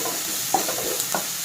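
Crushed shallots hit hot oil for a Kerala-style ivy gourd and egg stir-fry, giving a close, steady sizzle broken by a few sharp clicks of stirring.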